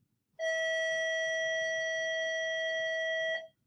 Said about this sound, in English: And you can hear the bell going off. It's time for lunch.